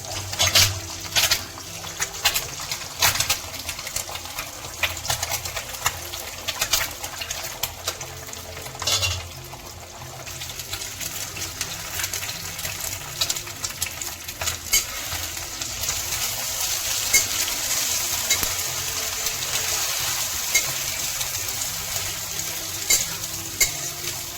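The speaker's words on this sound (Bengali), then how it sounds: "ডিমগুলোকে ফাটিয়ে তেলের উপরে দিয়ে দেবো" Eggs cracked into hot oil fry with a loud, continuous sizzle, with a few sharp pops and crackles early on and the hiss swelling steadily toward the end.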